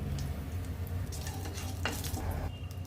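Mustard seeds crackle and splutter steadily in hot oil during tempering, a close, continuous sizzle with faint scattered pops and no voices.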